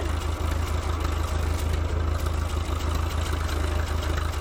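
A tractor engine idles close by with a steady low throb and even, rapid pulsing, plus a light mechanical clatter over the top and no voices.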